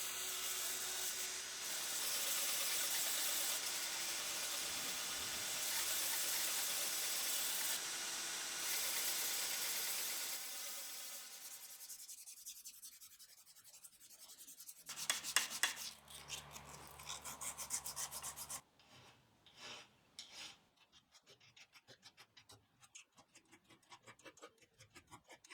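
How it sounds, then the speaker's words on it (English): Sandpaper worked against an old vise's worn chromed steel handle, a continuous rasping scrub that runs steadily and then breaks into shorter, uneven strokes with pauses. "I'll sand it back the best I can and then blacken it."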